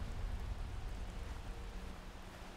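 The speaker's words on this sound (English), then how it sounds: "it was raining for a moment then when we stepped out" Steady rain falling in Skyrim, a broad, continuous hiss of raindrops with a low rumble underneath, moderately soft and unbroken throughout.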